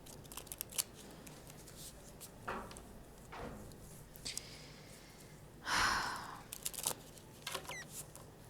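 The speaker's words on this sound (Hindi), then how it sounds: "तो सबसे पहले हम कार्ड्स को शफल कर लेते हैं, अच्छे से इनको हम शफल कर लेंगे।" Tarot cards are shuffled by hand up close, with soft scattered flicks and riffles, one louder rustling sweep and breathy noises in between.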